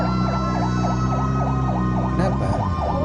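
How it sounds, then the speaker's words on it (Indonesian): Loud, close ambulance siren wailing in a fast, regular up-and-down cycle on a city street at night, with a vehicle engine droning underneath throughout. "kalau semisal kalian lagi di jalan dan mendengarkan suara sirine ambulans, sebaiknya kalian minggir deh."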